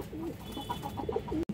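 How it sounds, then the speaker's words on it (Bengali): An old-bloodline Sapchila male pigeon coos close up in a quick run of rolling, bubbling calls, ending in a brief cutout. "পুরনো ব্রাডলাইনের একটা সাপচিলা নর কবুতর আছে"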